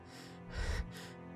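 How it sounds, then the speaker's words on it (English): A video game character gasps with labored breathing, one strained intake swelling in the middle over a low ambient drone, close and alone without speech. "Kurisu has trouble breathing."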